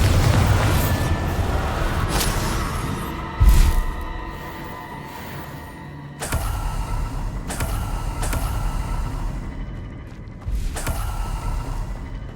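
Bombarda spells in Hogwarts Legacy go off as a run of sharp, booming blasts over a low rumbling background, several separate bangs spaced a second or two apart.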